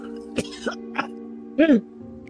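A few short, strained coughs and gasps in quick succession, then a harsher, drawn-out choking cough, close and alone.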